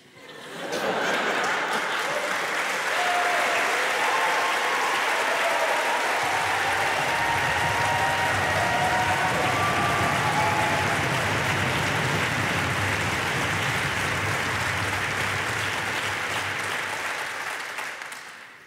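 Sustained audience applause at a ski-themed comedy show, a dense steady roar of clapping that swells in quickly, holds loud and even for well over fifteen seconds, then fades at the end.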